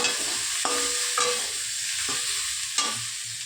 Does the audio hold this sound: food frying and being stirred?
yes